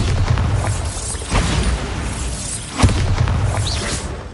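Bombarda blasting spell in Hogwarts Legacy, a loud rumbling blast with two heavier booming bursts rolling through a continuous roar, no speech.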